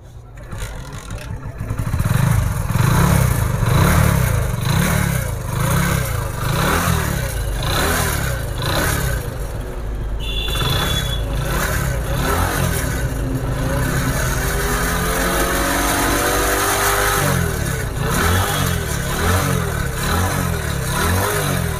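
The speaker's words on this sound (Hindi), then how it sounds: "तो चलिए बाइक का स्टार्ट कीजिए।" A Splendor Pro motorcycle engine kicks into life and revs loudly up close, rising and falling in pitch, then settles into a rough, steady idle.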